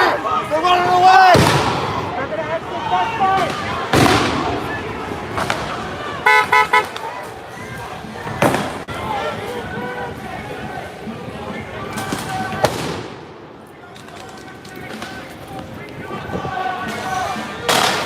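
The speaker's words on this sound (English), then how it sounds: "So those were pepper bombs that they shot through the fence at those guys up against the fence there" Pepper bombs fired through a fence at people during a night street protest in Portland, Oregon, with several sharp loud pops and bangs scattered among crowd noise, shouting and passing car sounds.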